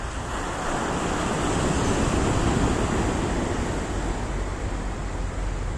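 Sicilian sea near Messina, with a steady, loud roar of surf and breaking waves washing continuously against the shore, mixed with wind buffeting the microphone and no voices.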